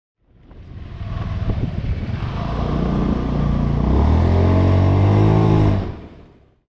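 A Honda Beat scooter engine, just after a manual ECU reset, revs up loud and close, climbing in pitch, holding high, then dropping away to quiet.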